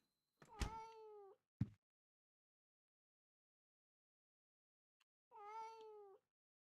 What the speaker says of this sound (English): That's what's meowing.